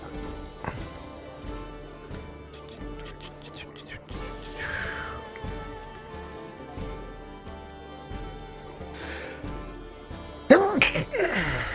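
A single sneeze breaks out near the end amid quiet group chatter at a tabletop Dungeons & Dragons session, with people talking softly throughout.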